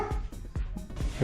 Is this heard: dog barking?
yes